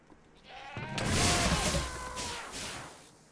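A goat in Minecraft (FTB Stone Block 4) lets out one drawn-out, wavering bleat that swells and fades, clear and close, with no talking.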